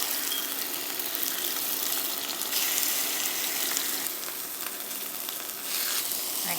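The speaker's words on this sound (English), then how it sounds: "we're going to add the pork and cook for 4 to 6 minutes per side" Pork cutlets frying in a hot pan, a steady loud sizzle with crackling spatter that swells and eases slightly throughout, with no voices over it.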